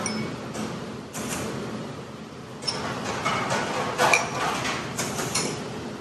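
Almond butter, walnuts and dried fruit being worked together into a stiff no-bake dough in a bowl, with scattered clinks and scrapes of utensil against dish, fairly close and moderately loud, without speech.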